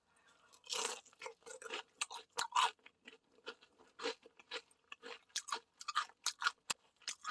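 Close, crisp crunching from someone chewing crispy fried chicken with sauce at a night market in Busan, bites coming in an irregular rhythm with short pauses between.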